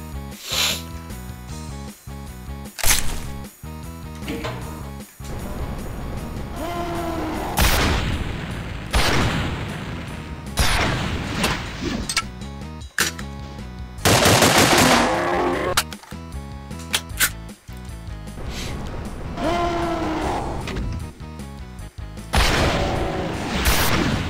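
Rapid bursts of SMG fire in the Doom video game, with sharp, loud repeated shots clustered in salvos and brief pauses between them, alongside other in-game effects and no talk.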